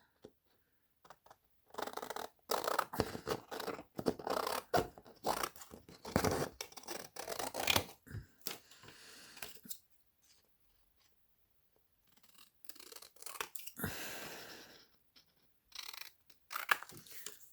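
Scissors cutting paper for a Christmas journal craft: crisp snipping and crunchy slicing strokes in irregular bursts, close and clear, with pauses of quiet between runs of cuts.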